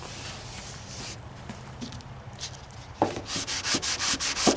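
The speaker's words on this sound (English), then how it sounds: "I need to block in here, but I don't want to cut a bunch of gouges to the bottom here" Block sanding on the sheet metal hood of a John Deere tractor during body work, a steady close abrasive rubbing that becomes louder with distinct rhythmic strokes partway through.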